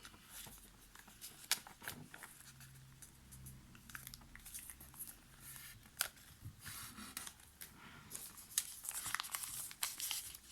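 Flower wrapping paper being folded and creased by hand for a bouquet pouch, giving close, quiet crinkles and rustles in irregular bursts with occasional sharper crackles; no speech.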